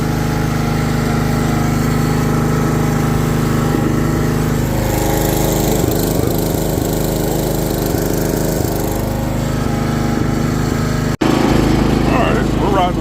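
A John Deere GX75 riding lawn mower running steadily while being ridden with the deck up over dead grass, a loud continuous engine drone with shifting tone; a person speaks over it.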